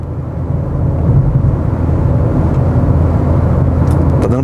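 Inside a new Peugeot 208 cruising at 100 km/h, a steady low road and engine hum fills the cabin, moderately loud and constant, with no talking.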